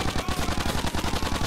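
Automatic gunfire fired in the video game GTA IV, The Ballad of Gay Tony, a fast steady rhythm of sharp, even shots with no break through the short burst, loud and close, with no talking over it.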